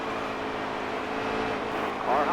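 Stock cars in NASCAR Heat 3 at the Brickyard 400, a pack roaring around the player with a steady, dense engine drone that builds slightly at the end, under a commentating voice.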